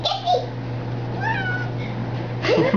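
A house cat meows clearly at close range, one drawn-out rising and falling call in the middle, with a steady low hum and brief rustling around it and no speech.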